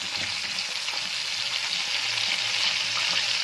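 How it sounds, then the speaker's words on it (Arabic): Sardines coated in flour frying in hot oil, Port Said style, with a steady, dense crackling sizzle that stays close and even throughout, with no talk. "وبعد كده بنحطها في الزيت"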